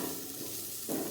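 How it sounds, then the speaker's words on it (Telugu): Bitter gourd fry being stirred in a pan with freshly added coriander, a steady soft sizzle under light scraping, with a louder stir stroke near the end. "కొత్తిమీర వేసుకొని కలుపుకుంటున్నా"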